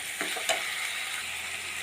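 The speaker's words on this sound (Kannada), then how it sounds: "ಇದನ್ನು 2 ನಿಮಿಷ ಫ್ರೈ ಮಾಡ್ಕೊಳ್ತೀನಿ" Eggplant frying in a pan for a vegetable palya, giving a steady, close hiss of sizzling oil with a couple of brief stirring scrapes near the start.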